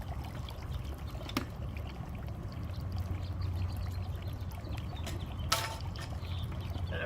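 Water pours and trickles steadily as it drains out of a cordless pool cleaner robot, a continuous close splashing stream with a couple of brief knocks.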